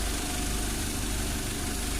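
A car engine with a homemade exhaust gasket idles steadily, a constant low rumble and vibration heard close up, with no talking.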